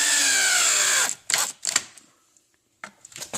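A power drill driving 4-inch wood screws, a steady high whine for about a second that then breaks into short buzzing bursts and clicks with quiet gaps between them.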